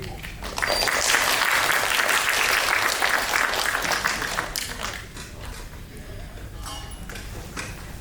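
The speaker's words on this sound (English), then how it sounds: "Can we get a warm round of applause and welcome for Mr." A conference audience applauds to welcome a speaker to a talk on machine learning pipelines with MySQL HeatWave, dense clapping for about four seconds that thins to scattered claps.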